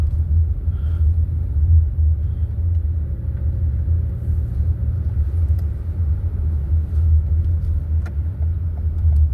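A car drives along a road with a steady low rumble of tyres and engine, and passing traffic adds faint swells on top, with no one talking.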